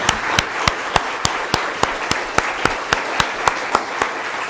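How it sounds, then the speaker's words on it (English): A small audience at a candidate forum claps for mayoral candidates, thin, sparse applause with distinct individual claps standing out in an uneven rhythm over a few seconds. "How about a round of applause for our candidates for mayor?"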